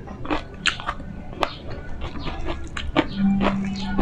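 Someone chews crunchy dried fish (tuyo) up close with repeated crisp bites and crunches in an uneven rhythm, with a faint voice-like hum near the end.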